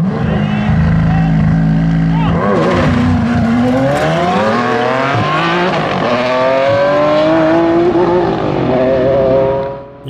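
A Ferrari Enzo and a McLaren Senna race side by side, their engines screaming loudly and climbing through rising revs and gear changes up close, fading slightly at the very end.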